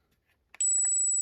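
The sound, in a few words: beep from PETAVERN G5 dog training collar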